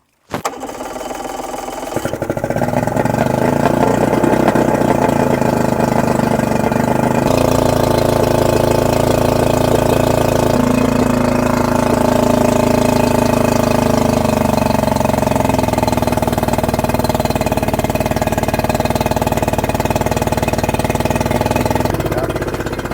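A Yamaha 90 HP outboard boat motor, running on a flushing hose with low water flow, starts up and runs steadily at a loud, constant idle, with its tone shifting slightly a few times.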